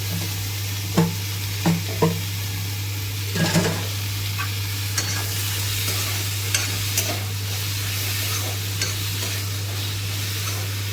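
Tomato chutney sizzles and fries in a pan in a home kitchen, a steady crackle with a few sharp stirring clinks and scrapes of utensil against the pan standing out early on.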